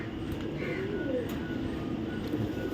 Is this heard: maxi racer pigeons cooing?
yes